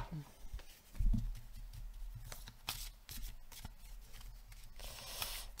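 Tarot-style cards being shuffled by hand for a final draw, close soft riffles and slaps in irregular bursts, quiet.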